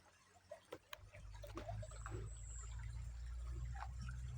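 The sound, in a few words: river water flowing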